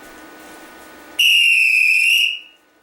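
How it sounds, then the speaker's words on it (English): A referee's whistle in a basketball setting gives one sharp, loud, sustained blast of a bit over a second, then fades to near silence. "the referee is going to blow his or her whistle"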